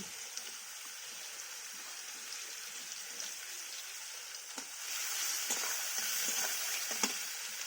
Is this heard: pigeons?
no